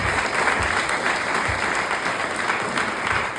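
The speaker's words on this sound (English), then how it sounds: "a big round of applause for Gordon, who's still doing it now" Room full of guests at a celebration lunch in a pub gives a warm, steady round of applause, continuous dense clapping at moderate volume with no voices over it.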